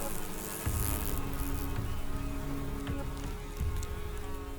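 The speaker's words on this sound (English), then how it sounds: "Their menacing buzzing dominates the forest." A dense, steady drone of many insects swarming to honeydew fills a forest, continuous buzzing with individual fly and wasp passes rising and fading nearby, no voices.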